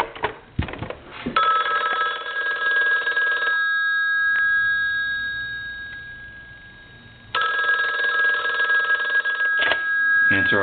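An ITT rotary desk telephone's loud electromechanical bell, set to loud, rings in two long bursts separated by a pause, jangling steadily and close by.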